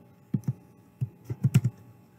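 Code is typed on a computer keyboard in short bursts: a few separate keystrokes, then a quicker cluster of clacks, crisp and close with no voices.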